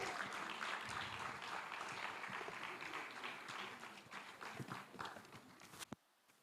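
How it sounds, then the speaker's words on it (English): An audience at the Ecobank Fintech Challenge semi-finals applauds to welcome the Ecobank Cameroon managing director, a dense burst of clapping that thins out before stopping abruptly. "Please, a round of applause, ladies and gentlemen."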